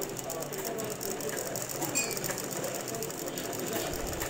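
A sewing machine runs steadily, stitching a blouse piece onto its lining for a full-sleeve blouse, a faint, even mechanical whir with light ticking and no pauses.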